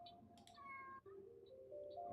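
A cat meows several times in a row, drawn-out and nearby, in a quiet indoor room with no talking.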